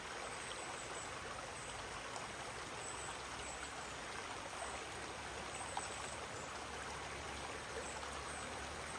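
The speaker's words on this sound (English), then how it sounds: "sound of the stream." A mountain stream at Vogel State Park in the North Georgia Mountains, running lower than usual after little rain, gives a steady, even rushing and trickling of water with no pauses, heard alone at a soft, constant level.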